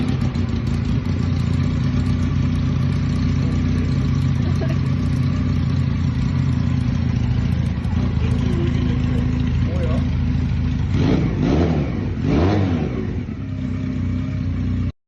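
A 125cc four-stroke neo-retro motorcycle on its stock exhaust runs steadily, then gives a couple of sharp rev blips near the end over a constant mid-pitched engine drone.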